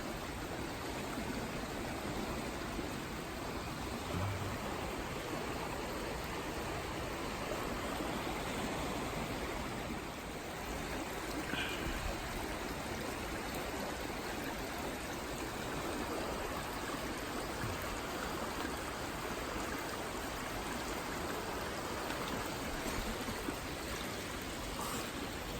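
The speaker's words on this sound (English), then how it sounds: "Water's flowing right under Tim's hammock" Steady rushing floodwater flows continuously through a winter campsite, a broad even roar with no breaks, like a swollen stream passing close by.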